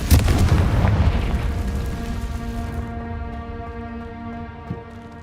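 A fire-blast spell from the wizarding game Hogwarts Legacy bursts in a loud, booming explosion that rolls off into a long ringing, humming decay with sustained tonal layers.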